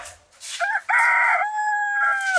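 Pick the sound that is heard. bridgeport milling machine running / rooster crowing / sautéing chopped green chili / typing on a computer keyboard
rooster crowing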